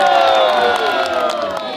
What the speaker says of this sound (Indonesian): Satu, dua, tiga, tepuk tangan